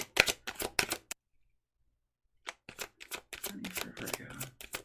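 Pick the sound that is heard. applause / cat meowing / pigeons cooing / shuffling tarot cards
shuffling tarot cards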